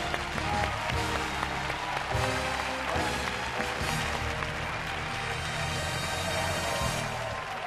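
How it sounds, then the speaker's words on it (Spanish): A television studio audience gives a loud, sustained ovation, dense continuous clapping filling the room steadily for several seconds with no voices on top. "Y la ovación buena"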